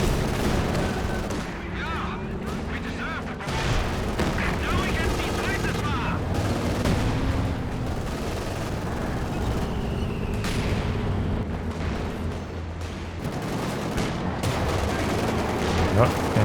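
Gunfire and explosions from Company of Heroes 2 in a 4v4 match, with a Panzer IV tank battling a 6-pounder anti-tank gun, form a dense, continuous wash of shots and booms under a commentator's voice throughout.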